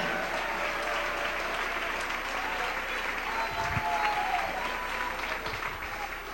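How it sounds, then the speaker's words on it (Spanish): A church congregation claps continuously, a dense, moderately distant wash of applause that swells slightly midway and stays steady throughout. "Dele ese aplauso al Rey en esta noche"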